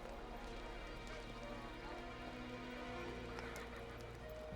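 A horse neighs and its hooves clip-clop in an ancient-world film scene, a steady mix of whinnying and hoofbeats against a continuous low background rumble.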